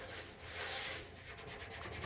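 A hand rubs and swishes across a drum head without a stick, making a soft, close, airy friction hiss that swells and fades over about two seconds and ends in a light fluttering brush.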